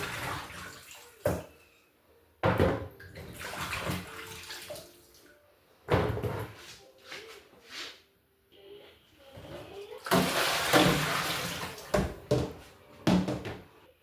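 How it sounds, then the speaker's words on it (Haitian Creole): Tap water running in bursts while raw beef is rinsed in a kitchen for a ragout, splashing and gushing in irregular spurts separated by quiet pauses and small clatters. "je vais tirer de l'eau."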